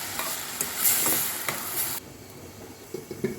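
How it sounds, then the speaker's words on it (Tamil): Onions with cumin and fennel sautéing in hot oil in a pan, a loud close sizzle and stirring scrapes that drop suddenly to a quieter hiss with light clinks. "அதுலேயே வெங்காயம் எல்லாமே போட்டு இது வதக்கிடலாம்"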